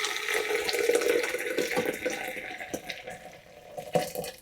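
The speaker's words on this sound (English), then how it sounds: "So that's hot water pouring into a beaker, a coffee beaker, which I'm now pouring into the coffee press." Hot water poured into a coffee beaker, a close, steady splashing pour that thins into trickles and drips toward the end.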